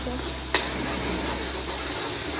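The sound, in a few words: stirring onions frying in pan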